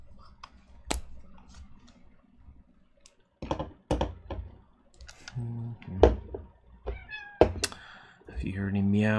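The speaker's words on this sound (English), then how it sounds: "Meows, that is the office cat Duchess." An office cat meows several times in short, clear calls, mixed with keyboard typing, clicks and thunks nearby, and a person talks at points around it.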